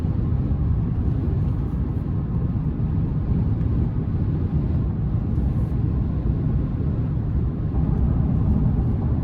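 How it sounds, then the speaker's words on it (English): A 2024 Chevrolet Silverado 1500 LT Z71 pickup with a 5.3 V8 and Z71 package wheels, heard from inside the cabin while driving. Steady, loud broadband road roar and tire rumble continue throughout with no talking. "surprisingly, the road noise is not as bad as I was expecting, especially with the Z71 package and these wheels"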